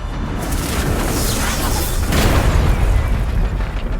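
A magic attack explosion from the video game Solo Leveling Arise, loud, dense and sustained, with a heavy rumbling burst that swells midway and fills the whole clip.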